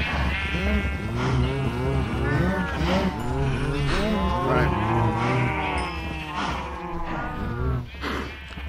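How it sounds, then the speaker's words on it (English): A herd of cows in the video game Minecraft, their moos repeating and overlapping loudly and continuously, with several animals calling at once in a close, crowded chorus. "Right, oh my, there's a lot of cows."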